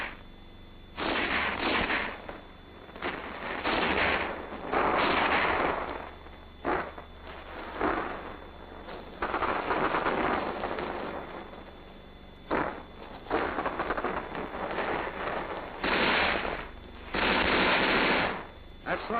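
Rifle squad gunfire from an infantry attack, with repeated bursts of rapid shots coming in loud clusters separated by short pauses, firing fairly continuously throughout.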